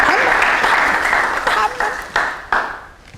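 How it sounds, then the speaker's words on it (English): A room full of people applaud with sustained, dense hand clapping that stays loud, then breaks into a few separate bursts before fading, with voices heard among the applause. "can you clap your hands?"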